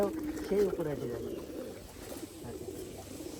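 Pigeons at a home loft coo in low, rolling calls, loudest early on, with a voice talking faintly in the background.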